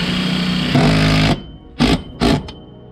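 A cordless power driver drives a screw into a 2x4 wooden girt outdoors at a ranch. One long, close, whirring run is followed by two short bursts as the screw is snugged down.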